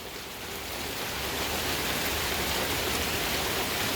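Heavy rain pours down after a hot, dry spell in the 90s, a dense steady hiss that swells louder over the first second and then holds strong, with no talking.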